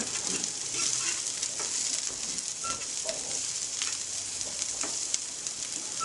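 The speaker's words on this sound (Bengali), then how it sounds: "এবং আবার সেগুলোকে নেড়ে চেড়ে একসাথে করে দিন" Noodles are stirred in hot oil, with a continuous crackling sizzle and occasional light scrapes and taps of the utensil, close and fairly quiet.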